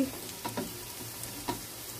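Pumpkin pieces fry in hot oil with chopped garlic and ginger, a soft continuous sizzle broken by a few quick stirring scrapes, close and fairly quiet with no talking.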